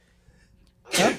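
A single sharp sneeze bursts out loudly after a second of near quiet.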